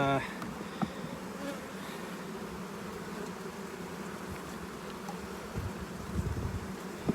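Honeybees buzz steadily around an open hive packed with brood during a spring beekeeping inspection, a dense, moderately faint hum with occasional handling knocks and no talking.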